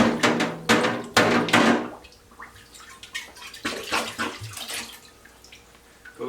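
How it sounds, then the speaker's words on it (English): Water running from a tap as a glass wine bottle is rinsed during bottling, with a splashing gush and clinking knocks at first that fade to softer trickling and sloshing. "Give it a rinse."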